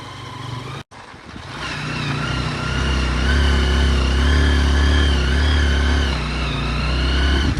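Hero Karizma motorcycle engine labouring up a steep, cold mountain hairpin, a loud steady revving drone with rising and falling pitch after a brief cut near the start, close and continuous with no talk.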